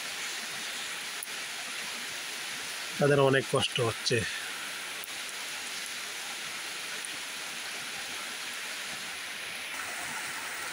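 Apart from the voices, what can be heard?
continuous rain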